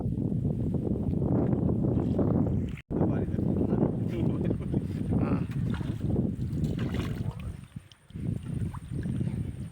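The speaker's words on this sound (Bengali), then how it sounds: "এই যে নৌকাতে আমরা ঘুরতেছি।" Boat ride on Gajnar beel, a wetland lake, with wind and water rushing steadily around the boat in a broad rumble, while people talk over it throughout.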